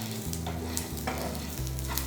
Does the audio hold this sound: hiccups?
no